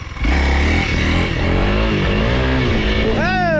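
A Honda CRF 300L dirt bike engine rumbles loud and close, rising and falling in pitch as the throttle is worked, then climbs sharply in a quick rev at the end.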